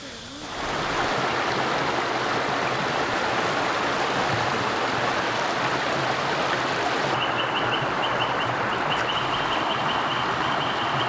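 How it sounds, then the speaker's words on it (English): Steady rushing stream tumbling down a set of rapids into a deep pool at a swimming spot in the Australian outback; a continuous broadband roar close by, unbroken from start to finish. "sort of comes down the rapids there into a bit of a hole"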